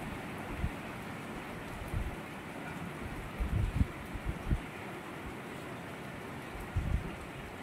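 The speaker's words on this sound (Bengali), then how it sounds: "বৃষ্টি থেমে যাচ্ছে" Rain falls in a steady, soft outdoor patter, fairly quiet, with a few scattered heavier drops and thumps standing out.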